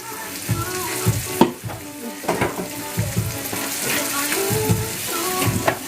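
Seafood is rinsed under a running tap, producing a continuous rushing water sound broken by irregular splashes and handling bumps, close and fairly loud.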